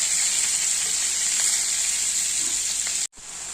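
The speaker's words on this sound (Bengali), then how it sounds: "দেখো আমি কিন্তু মশলা দিয়ে ফুলকপি আলু এই যে মটরশুঁটি দিয়ে মশলা খুব কষিয়ে নিলাম" Cauliflower, potato and peas fry with spices, cumin, bay leaf and green chilli in a pan, giving a loud, steady close sizzle with faint stirring that cuts off abruptly near the end.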